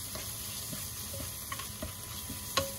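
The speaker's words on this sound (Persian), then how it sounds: "نصف قاشق چایخوری زردچوبه و 1 قاشق چایخوری هم بیشتر فلفل سیاه، همین که اینا رو با هم تفت دادیم" Fried onions sautéed with turmeric and black pepper in a pan, a quiet continuous sizzle broken by a few sharp scrapes and knocks of a stirring utensil.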